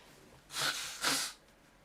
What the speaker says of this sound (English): if you could hear me blow my nose